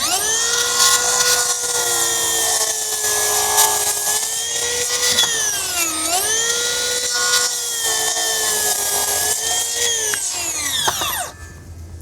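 A Makita 10-1/4 inch cordless circular saw cuts through a board: a loud, steady high whine holding for about eleven seconds, dipping in pitch midway as it bites, then spinning down to a stop.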